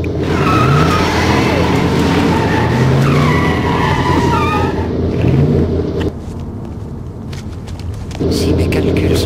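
Remote-controlled car from a film speeding off: loud continuous motor whine with tire skids and squeals, mixed with film soundtrack and voices, dipping briefly near the end.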